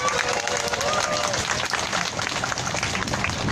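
A crowd claps steadily at an outdoor rally, dense applause filling the clip with some background voices mixed in.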